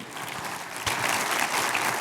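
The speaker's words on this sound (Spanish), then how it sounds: "Dale ese aplauso al Señor." A church congregation gives a short burst of applause that swells suddenly partway through and holds at full strength.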